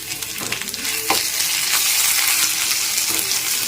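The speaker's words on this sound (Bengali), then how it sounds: "এখন পেঁয়াজ আর রসুন খুব ভালো করে ভেজে নিয়েছি এখানে পেস্টটা দিয়ে দিলাম" Onion and garlic paste frying in a wok gives a loud, steady sizzle close by, with a few scraping knocks from stirring near the start.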